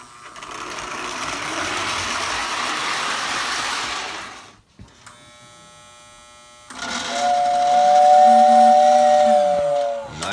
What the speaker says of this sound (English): Nice sounding whistle.